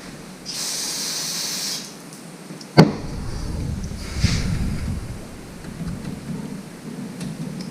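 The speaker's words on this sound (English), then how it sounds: "Let me blow these nuts off." Compressed air hisses in a loud burst as nuts on a lawnmower are blown off, followed by a sharp knock and a lower rumbling rush of air with no talk.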